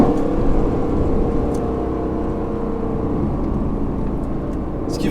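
A red Aston Martin Vantage drives on the Nürburgring, with a loud, steady engine drone and road roar heard from close by and holding constant throughout.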